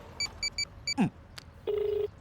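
A quick series of short dialing tones, four clipped beeps, a brief swoop, then a longer steady buzzing tone like a phone line ringing out.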